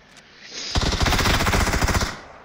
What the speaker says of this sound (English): Shoot him, Sprog.